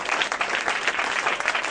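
Standing congregation at a Spanish-language church teaching session applauds the name of Jesus, a steady, dense wash of many hands clapping, moderately loud and alone.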